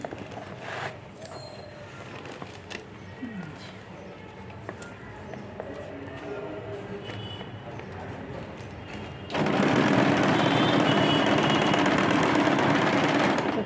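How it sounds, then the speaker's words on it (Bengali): Sewing machine stitching a bag, running as a steady, loud mechanical whir that starts abruptly partway through after a quieter stretch of handling noises and faint background sounds. "এইভাবে করে আমি পুরোটাই সেলাই করে নেবো"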